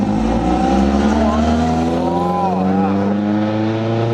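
Vintage car passing at the Villefranche Rade Classique car show in France, its engine a steady loud rumble with revving pitch sweeps midway, close by amid crowd chatter and voices.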